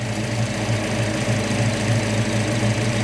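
A steady, low V8 engine idle from a 1969 Dodge Charger with EFI, with a slightly uneven, loping cam rumble, close and continuous throughout, no voices.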